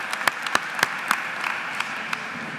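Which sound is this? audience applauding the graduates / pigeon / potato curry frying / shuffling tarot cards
audience applauding the graduates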